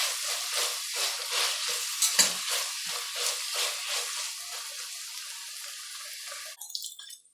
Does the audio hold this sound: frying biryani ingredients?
yes